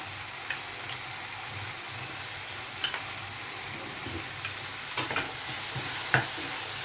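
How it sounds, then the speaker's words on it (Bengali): Low, steady sizzling as green peas are sautéed with spices in a kadai, with a few sharp scrapes and taps of a spoon stirring, fairly quiet and close. "মশলার সাথে একটু কষিয়ে নিচ্ছি"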